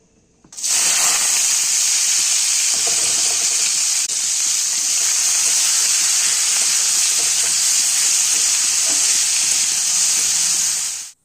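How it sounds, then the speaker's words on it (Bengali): Broccoli and potatoes fry in a pan with a loud, bright, continuous sizzle. It starts abruptly, holds steady for about ten seconds, then cuts off, with faint clinks underneath and no talking. "চাটা খেতে খেতে চলো এখন ব্রকলি আলুটাকে ভাজা করে নিই"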